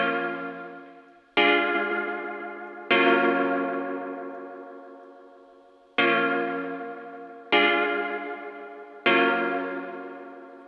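Sampled chord stabs layered with stacked effects and delay in Logic Pro X, six bright bell-like hits, each decaying slowly with chorus shimmer and echo tails, spaced irregularly and played alone.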